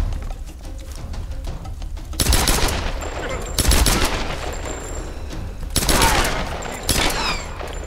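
Bursts of automatic gunfire in the video game Tomb Raider (2013), several loud broadband volleys with short pauses between them over a steady game background.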